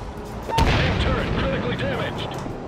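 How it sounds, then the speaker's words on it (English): Naval gunfire in World of Warships, booming shell impacts and blasts with a heavy onset and rumbling tail, mixed under a voice and game tones. "Who is shooting at me?"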